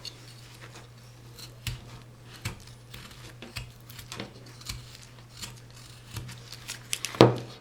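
Hand carving tools slice into a wooden caricature figure, a series of crisp, close cutting snicks spaced about every half second to a second, over a steady low hum and ending in a louder scrape.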